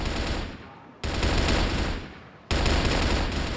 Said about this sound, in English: Shots here through the window.